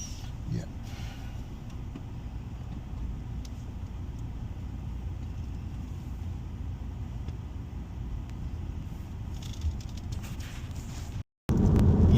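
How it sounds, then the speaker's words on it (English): A 2024 BMW 320i G20 M Sport on the move gives a steady low road rumble and engine drone from inside the cabin, continuous and even, cutting out briefly near the end before resuming louder. "this is the BMW 320i, as I said, the 2024 model. Well, it drives well"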